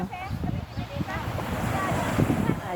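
Morning seaside at Jomtien beach, with waves washing in and steady wind buffeting the microphone, a continuous close rushing roar with no clear speech.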